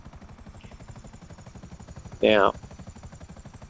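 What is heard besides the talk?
police helicopters in GTA 5 video game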